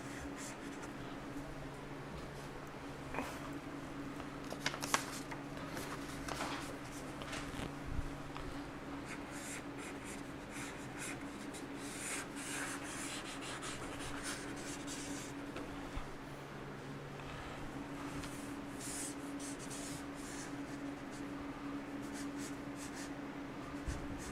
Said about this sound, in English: I'm using a chisel tipped Sharpie. I can get both a thick and a thin line.